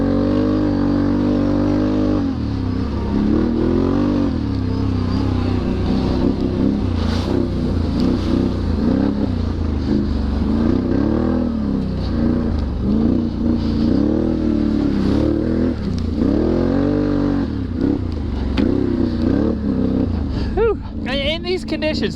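A 2022 Can-Am Renegade 1000 XXC ATV drives in four-wheel drive over super slick ground, its engine loud and close with a steady drone that surges and dips repeatedly as the throttle rises and falls, a rider talking over it.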